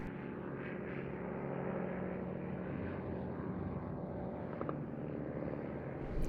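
A WWI-era Fokker E.III monoplane flies a display at an airshow in Leszno, its propeller engine a steady, broad droning rumble that holds at a moderate distance throughout, with no voices.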